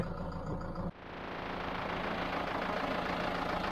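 A Zetor tractor diesel engine idles steadily at an agricultural fair, a low, continuous rumble after a brief shift at the start, running alone with no voices.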